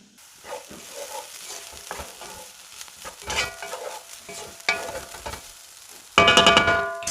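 Chicken samosa filling of mince and masala frying in a pan while being stirred, with intermittent scraping strokes over a low sizzle, ending in a louder, bright burst of sizzling and clattering.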